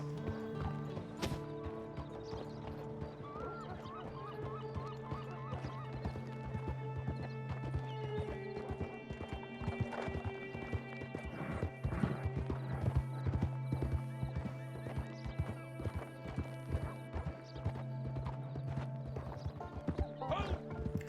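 A horse gallops in Red Dead Online, with rapid rhythmic hoofbeats and an occasional whinny over game music and ambience, moderately quiet and steady throughout.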